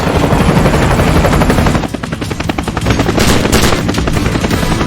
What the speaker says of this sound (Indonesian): Helikopter musuh muncul dan menargetkan Pot.